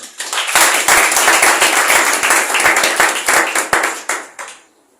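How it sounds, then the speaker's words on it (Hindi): Loud applause from a studio audience greeting a preacher on a Christian talk show, dense clapping ringing out for about four seconds before tapering off to silence. "जोरदार तालियों में ब्रदर राज मसीह।"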